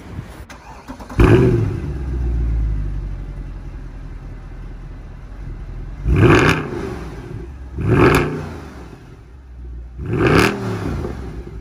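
An original-condition older AMG car with a 6.2-litre V8 revs in four loud, close bursts: a long first blip that settles into idle, then three sharp throttle stabs spaced a couple of seconds apart.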